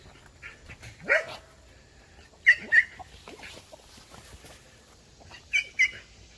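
A dog at a home with chickens gives short, sharp barks in three separate bursts, fairly close and spread across a few seconds. Faint bird and chicken noises sit in the background, and no one speaks over it.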